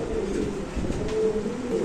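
Mondain pigeons at a pigeon sale coo in a low, throaty, continuous murmur close by, with no voices heard.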